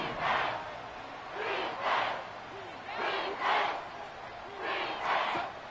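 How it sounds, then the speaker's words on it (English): Stadium crowd roaring at Arrowhead in Madden 24, rising in swells of cheering that peak repeatedly over several seconds, with a commentator's voice running underneath. "The Arrowhead crowd in full roar."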